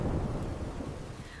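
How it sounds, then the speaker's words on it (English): Thunder rumbling during bad weather, a low, loud roll that slowly fades, with a steady wash of rain underneath and no talking. "I hear thunder."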